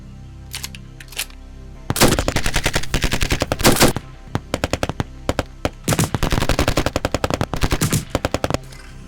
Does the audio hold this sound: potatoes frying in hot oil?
no